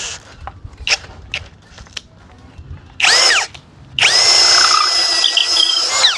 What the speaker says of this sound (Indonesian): Modenya mode drill. Ini mata auger 10 mili.